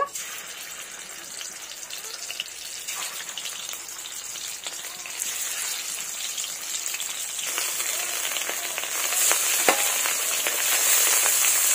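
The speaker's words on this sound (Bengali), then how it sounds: "এবার এর মধ্যে আমি মাছগুলো দিয়ে দেব।" Bhetki fish fillets frying in hot mustard oil in a kadai. The oil crackles and spatters steadily like rain, grows louder and denser toward the end, and no one speaks.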